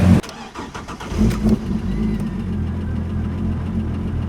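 A turbocharged Ford Falcon engine cranks and catches, then settles into a steady, loud, close rumbling idle with a slight rev early on.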